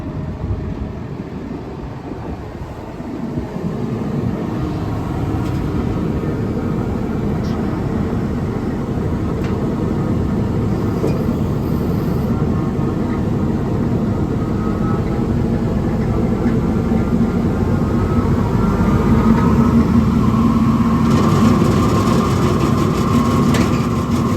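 A new saw starts up and runs with its blade turning, a loud, steady, rough mechanical roar that builds after a few seconds and continues without pause.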